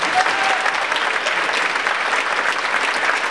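Dense, sustained audience applause fills a church during a Martin Luther King Jr. rally, loud and even from start to finish with no voices on top.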